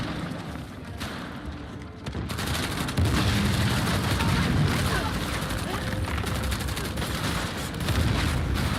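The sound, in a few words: shotgun fire in Uncharted: The Lost Legacy video game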